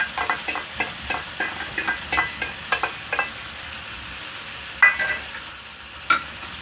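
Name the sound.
ginger garlic paste and spices frying and being stirred in pan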